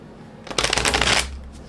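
A short, crisp riffle of Lumina Tarot cards by Inner Hue being shuffled, close and clear, lasting under a second with no talk.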